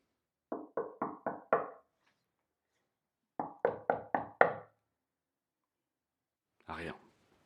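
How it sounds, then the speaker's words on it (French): Two bursts of five sharp knocks on a door, evenly spaced and close, separated by a few seconds of silence, followed by a brief voice. "Puis il se mit à cogner contre la porte."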